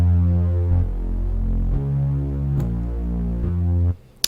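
A subtractive synthesizer plays a low, droning tone with its filter cutoff lowered, sounding muffled and buzzy as it steps through several sustained notes before cutting off.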